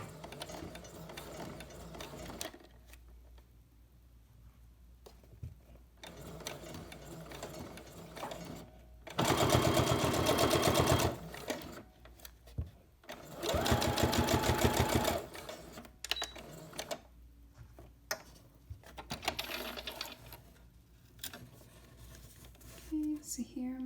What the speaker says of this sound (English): So I want to sew really close to the edge, maybe like 1/8 of an inch away.